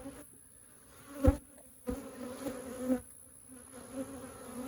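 Honey bees buzz at an open hive during a frame inspection, a continuous close drone with a few louder swells as individual bees pass near.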